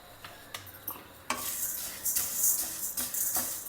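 Tuvar (arhar) dal being dry-roasted in a teaspoon of oil in a pan over a low flame, a steady gentle sizzle broken by repeated scraping stirs of the lentils against the pan, close and moderately loud with no talking.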